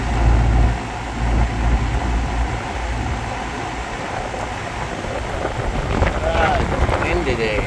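Wind blowing outdoors at a rooftop unit repair site, a loud rushing buffet against the microphone with low rumbling gusts that stay constant throughout.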